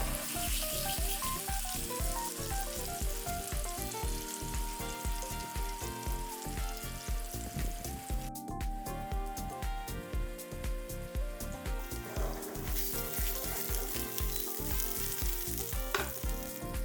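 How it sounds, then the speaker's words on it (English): Pineapple rings in sugar sizzle and caramelize in a frying pan for upside-down pancakes, giving a steady, close crackle throughout while background music plays along and no one speaks. "Cook on the first side for about 5 minutes, until the sugar caramelizes and the pineapple turns light to medium brown."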